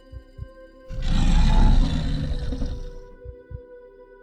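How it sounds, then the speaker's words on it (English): A deep, rumbling creature growl swells up for about two seconds in the dark and then fades, loud and close, set against a faint steady hum with soft low thumps before and after. "The scream was followed by a low growl."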